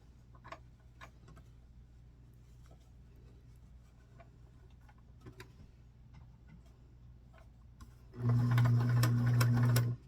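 A domestic sewing machine stitches a dress seam for a Simplicity 3522 pattern, starting with light ticks and clicks, then running in a loud, steady, close whir for about two seconds before stopping.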